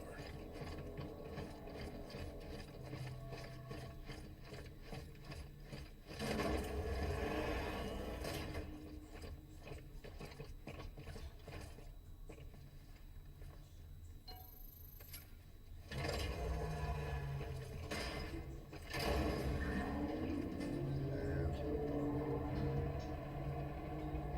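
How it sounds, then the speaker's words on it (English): An elevator mechanism in a video game gives off continuous ratcheting, grinding gear noise with louder surges partway through and near the end, mechanical and sustained with no speech. "Elevators ahead. Should get us up to the tower."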